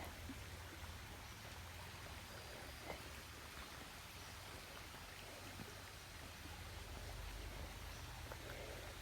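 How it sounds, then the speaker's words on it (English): Stream water flows steadily in a wooded state park, a faint, even rushing wash with soft scattered trickles and splashes, no voices. "I love the sound of all the water."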